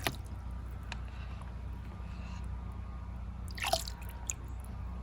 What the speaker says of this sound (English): I'm going to measure 6 teaspoons or 2 tablespoons of bleach and pour it into the water.